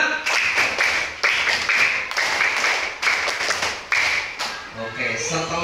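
A class of schoolchildren claps together in a patterned rhythm, groups of sharp claps separated by short pauses, loud and close, with a voice speaking near the end.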